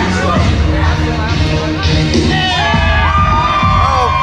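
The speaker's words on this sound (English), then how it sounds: "the crowd loving it here" Crowd at a DCW live wrestling event cheering and yelling loudly and continuously, with whoops and shouts rising throughout and voices mixed in.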